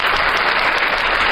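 Loud, even applause for a Umbanda radio program, a dense wash of clapping held steady throughout with no voices.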